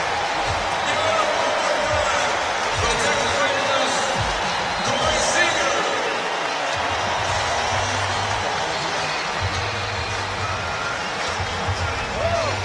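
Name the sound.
stadium crowd cheering at Home Run Derby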